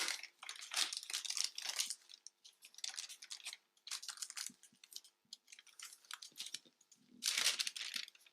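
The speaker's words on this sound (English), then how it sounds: "fold the side of the dart that's nearer the centre back, fold that over towards the side seam" Paper sewing pattern for a basic bodice back being folded over a dart, soft crinkling and rustling in several close bursts with pauses, fairly quiet.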